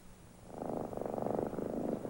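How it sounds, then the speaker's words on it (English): A cat purrs close by, a soft rhythmic rumble that swells after a quiet start and continues steadily. "There's a sound a cat makes when she's really happy and healthy."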